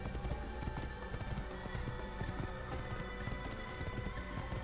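Hooves of Altaïr's horse in the Assassin's Creed video game beat a steady, rapid clip-clop throughout, loud and close over a constant bed of game ambience.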